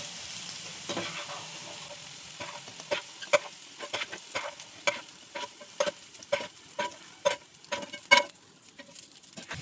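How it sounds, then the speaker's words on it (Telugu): Paneer pieces frying in hot oil in a home kitchen pan while being stirred, a steady soft sizzle broken by repeated sharp clicks and scrapes of the spoon against the pan. "పన్నీర్ ముక్కలు ఫ్రై అయిపోయినాయి."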